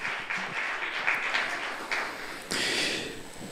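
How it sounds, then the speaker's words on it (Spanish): Congregation applauding during a Spanish-language church service, a moderate, steady patter of many hands clapping with a few louder swells, heard at a middling distance. "Si quiere aplaudirle a Dios, apláudele"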